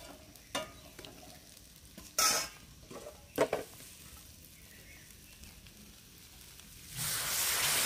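Egg tadka cooking in a pan, with a few sharp scrapes and clinks of stirring early on, then a steady loud sizzle rising near the end as liquid hits the hot pan.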